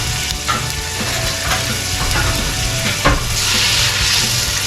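Pig intestines fry in canola oil, a steady dense sizzle with crackling pops and a few sharper spits, loud and close with no talking.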